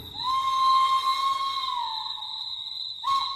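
A train whistle in an audio drama sounds one long, loud, steady blast close by; after a short break near the end a second blast begins. No voices are heard.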